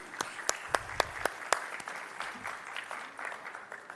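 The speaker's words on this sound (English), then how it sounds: "Big round of applause for our wonderful sponsors." A summit audience applauds the event's sponsors at a real estate conference: several sharp claps stand out at the start, then a soft, steady patter of distant clapping carries on under the room's ambience.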